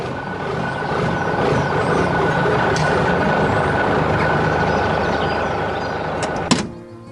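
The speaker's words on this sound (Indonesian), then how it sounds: "Truk hijau bergerak di tengah sawah" A green truck drives through a rice field, its steady engine rumble continuous and fairly loud for several seconds before a brief clunk near the end, after which the noise drops away.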